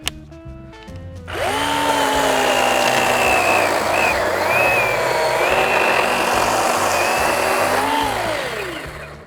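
A Ryobi 18V brushless battery chainsaw with a 12-inch bar whines up and cuts steadily through tree wood for several seconds, its motor pitch dipping briefly under load before winding down.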